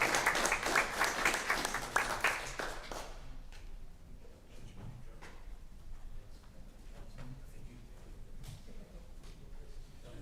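An audience at the Blue Springs city council meeting breaks into applause for a donation. Loud, dense clapping lasts about three seconds, then fades to scattered faint claps and quiet room noise.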